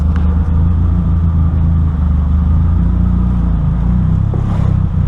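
A Mazda R-spec car's engine runs roughly with a deep, steady rumbling idle, loud and close throughout, with no voices.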